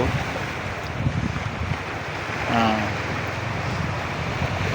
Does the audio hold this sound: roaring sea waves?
yes